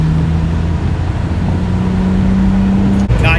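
BMW 335xi with an N54 engine and a big race intercooler pulling hard, a loud, steady engine drone with a rising tone held close for the full stretch, then a sudden break and a sharp burst near the end.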